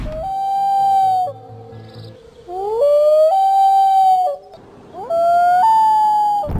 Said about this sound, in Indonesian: suara yang muncul itu hanyalah suara burung bebek yang diperlambat